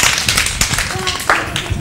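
Children clap loudly during a Turkish children's TV show about love, with sharp, uneven bursts of hand claps over about two seconds and voices mixed in.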